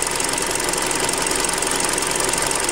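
A Hyundai Creta with about 40,000 km on the clock idles, heard from close beside the car: a steady, even engine hum with a faint rhythmic ticking, loud and unbroken, with no talking.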